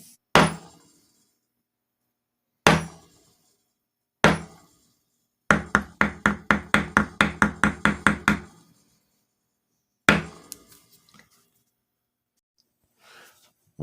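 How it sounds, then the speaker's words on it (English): Small hammer tapping along the edges of carved leather, several spaced single knocks followed by a quick run of about a dozen rhythmic taps, then a few more, close and crisp with no talk. "Hundreds of little hammer taps all the way around all the edges."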